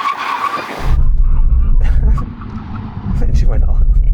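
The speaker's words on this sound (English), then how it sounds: "When we hit the line, full emergency stop." A car makes a full emergency stop at a line during a brake test, its tyres skidding loudly with a harsh rumbling scrub for about three seconds, close by. Voices come before the stop.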